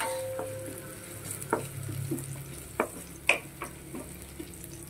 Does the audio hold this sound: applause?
no